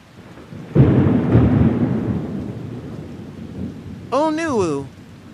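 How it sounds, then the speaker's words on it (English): Hail falling in a thunderstorm: a sudden loud roar of rain and hail on surfaces that holds steady, then a person shouts excitedly over it near the end. "Hail!"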